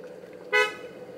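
A short car horn blast from a family car stopped in traffic during a roadside argument, one loud honk of under a quarter second against a quiet idling background.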